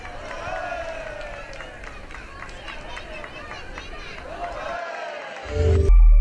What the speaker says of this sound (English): This feat is performed to the encouraging cheers and applause of the surrounding crowd.